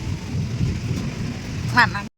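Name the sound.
thunder during rain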